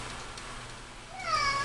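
A house cat meows near the end, a single rising, harmonic cry coming in loud after about a second of quiet room tone.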